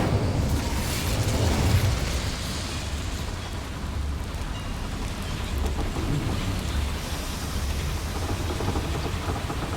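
The Incendio fire spell is cast in Hogwarts Legacy, with loud, sustained roaring bursts and rumbling blasts that swell and crackle over about ten seconds, dense and booming with no voices.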